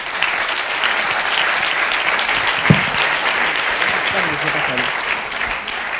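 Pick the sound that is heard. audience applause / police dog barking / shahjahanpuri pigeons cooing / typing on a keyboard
audience applause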